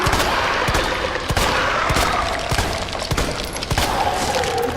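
Loud, rapid handgun shots in the Resident Evil 2 Remake video game crack out in dense succession over a constant noisy background of combat sound.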